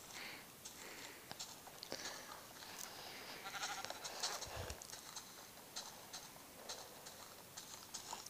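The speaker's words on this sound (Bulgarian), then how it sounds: "Овца, къде си? Ела, овца." Sheep in the video game Minecraft bleat a few times, played on a Lenovo tablet, faint and brief amid soft tapping and handling noise.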